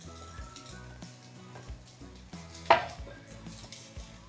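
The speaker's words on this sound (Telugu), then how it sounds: "ఇలా కూరగాయలన్నీ వేగిన తర్వాత ఇప్పుడు ఇందులో రైస్ వేస్తున్నాను." Rice, regular Sona Masuri rather than basmati, is added to vegetables frying in a pan for street-style paneer fried rice; a faint sizzle with clinks of utensil against the pan and one sharper scrape partway through.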